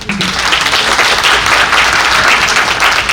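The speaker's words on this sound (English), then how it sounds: "Please give her another round of applause." Audience applause at an annual general meeting evening event, loud dense clapping filling the whole stretch evenly with no talk over it.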